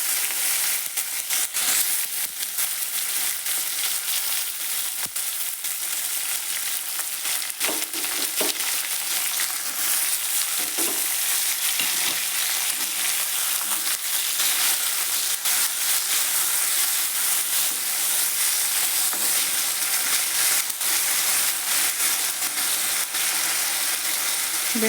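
Chopped tomatoes frying steadily in a pan, a continuous close sizzle and hiss with faint stirring scrapes throughout, no voices.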